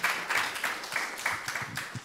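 An audience applauds at a conference session on the social contract, a steady patter of clapping hands that rises and falls in waves over about two seconds, moderately loud and fairly close, with no voices over it.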